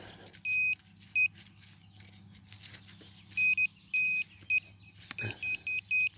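A handheld metal detector beeps in short repeated bursts, some single and some in quick runs, over a low engine-like hum with faint outdoor rustle.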